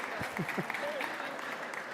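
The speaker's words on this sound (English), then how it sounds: "Can we give her a round of applause?" Applause from a crowd at a community gathering, fairly faint and steady for a couple of seconds, with brief voices and murmuring mixed in near the start.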